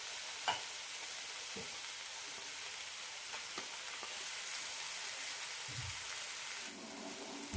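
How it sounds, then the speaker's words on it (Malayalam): A spoon stirs ground paste into a sizzling spice masala of roasted coriander powder and turmeric for a banana flower curry. A steady frying hiss runs throughout, broken by a few sharp scrapes and knocks of the spoon, with no voices. "മസാലയായിട്ട് നന്നായി മിക്സ് ചെയ്യാം"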